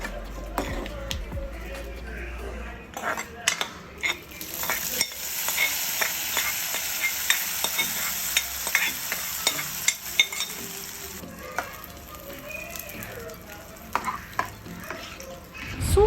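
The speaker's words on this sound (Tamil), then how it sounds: "இது நல்லா தேங்காய் வந்துட்டு நல்லா வறுபடணும்" Grated coconut for Kerala-style erissery fries in a pan, with a steady soft sizzle. A spoon scrapes and stirs it in irregular clinks, close and fairly quiet.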